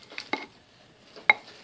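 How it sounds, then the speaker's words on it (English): A spatula scrapes and taps against a pan in a few short, sharp metallic strokes, with one bright clink near the end, close and alone with no talking. "Handy dandy spatula."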